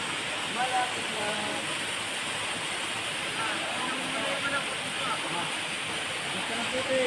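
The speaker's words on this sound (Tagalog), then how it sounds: "Waterfall." Bangon Falls in Catbalogan City, Samar roars at night with a dense, steady rush of falling water, heard close and constant while people talk faintly beneath it.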